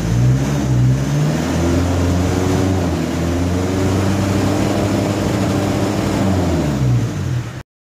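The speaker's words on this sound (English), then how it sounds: "then we're going to start our engine and then let's see our result." Car engine running after an engine oil additive has been added: a loud, steady idle hum with a rough low drone and slight rises in pitch, continuous until it cuts off abruptly, no voices.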